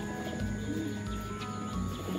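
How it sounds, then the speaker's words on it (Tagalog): Young racing pigeons in a loft coo in low, soft, repeated murmurs, with faint chirps over a steady background hum. "Yan, yun yung ating mga ibon."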